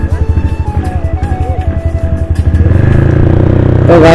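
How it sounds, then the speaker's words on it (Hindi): Several motorcycles, including an RX100, an R15 V3 and an RX135, fire up together at the start of a drag race. Loud, near two-stroke engines idle with a rapid throbbing beat, then rise into a steady, heavier roar as they rev. "तो बाइक स्टार्ट कर लेते और अब तो अपनी रेस होने वाली स्टार्ट।"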